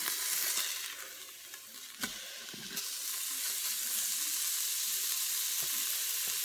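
Broth hisses and sizzles steadily in a hot Instant Pot holding Salisbury steak drippings, garlic and gravy mix, with a few spoon scrapes across the bottom and no talking.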